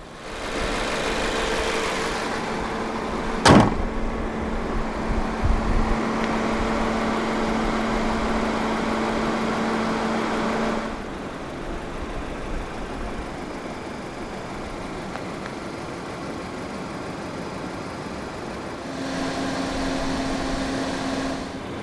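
2015 Mazda 2 sedan with a 1.5-litre SkyActiv-G petrol engine starting up: a sharp crank burst, then a loud steady idle that settles lower partway through and rises again near the end, with no voices.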